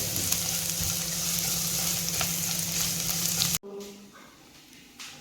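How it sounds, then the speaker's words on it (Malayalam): Ginger and garlic frying in a pan for egg stew give a steady, loud sizzle with occasional stirring scrapes, then the hiss drops abruptly to a quieter crackle near the end. "ഇഞ്ചി ഇട്ടു ഇനി ഇതൊന്ന് മൂത്ത് വരണം"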